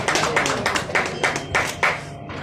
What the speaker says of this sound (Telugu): దయచేసి చప్పట్లు కొట్టవలసిందిగా కోరుకుంటూ కూడా